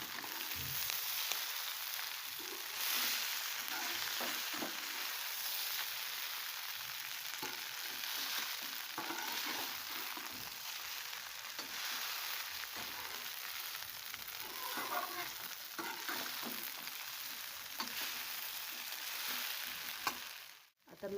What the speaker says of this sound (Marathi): आता मी टाकलेले आहे ह्याच्यामध्ये पोहे.